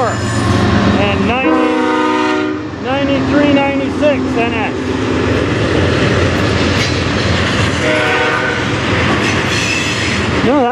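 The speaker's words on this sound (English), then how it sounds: "There's two different horn sounds on that train." Horns from a freight train led by BNSF 7744 and NS 9396 blare at night in Fostoria, Ohio, two distinct horn tones sounding in long repeated blasts over the steady rumble and clatter of passing cars, with people talking nearby.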